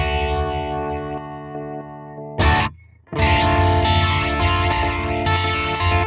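Distorted electric guitar runs through the STL Tonality plugin with a very short delay that swirls almost like a flanger, sustained chords broken by a brief burst and a near-silent gap before the heavy tone resumes.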